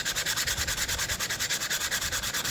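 Steady abrasive rubbing around the edges of a Land Rover Defender TD5 130 Hicap axle casting, a rhythmic back-and-forth scrubbing with regular strokes, close and continuous with no talking.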